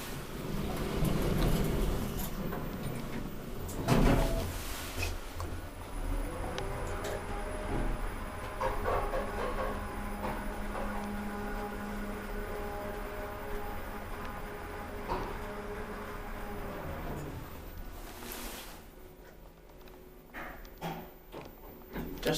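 A 2001 Otis GeN2 machine-room-less traction elevator runs, with a steady low mechanical hum and rumble inside the car and a few clunks and a door slide near the start and end.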